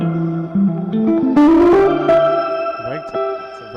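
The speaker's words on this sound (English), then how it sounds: "Another very popular one that I like to use sometimes is called Shimmer" Sustained guitar notes run through a shimmer reverb effect ring out with a washy reverb that adds bright octave tones above, creating a lush, echoing ambient swell.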